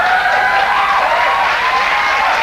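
Studio audience applause at a late-night talk show, a dense, steady wash of clapping with some whoops and cheers mixed in, loud and continuous throughout.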